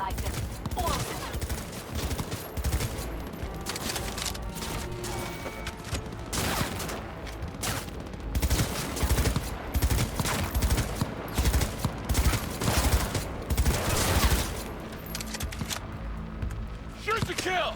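Rapid gunfire fills a firefight in the video game Cyberpunk 2077, with dense bursts and fusillades of shots running almost continuously under game music and effects, loud and close throughout.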